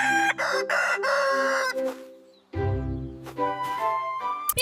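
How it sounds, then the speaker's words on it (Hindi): A rooster crows loudly and close by in a long, harmonic cock-a-doodle-doo, followed after a brief gap by a second crowing call with clucking fowl layered underneath. "Rooster."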